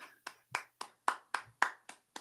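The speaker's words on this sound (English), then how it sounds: "a round of applause for this" A single person claps about nine times in a slow, even rhythm, each clap sharp and close with a brief decay, fairly quiet overall.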